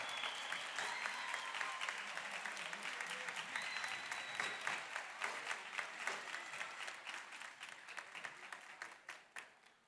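Applause from a folk dance festival audience in Río Gallegos for a national malambo champion: dense, sustained clapping that holds strong for several seconds, then gradually thins and fades toward the end.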